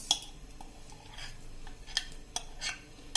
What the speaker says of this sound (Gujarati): અને હવે આને કન્ટિન્યુ આપણે આ રીતે હલાવતા જઈશું.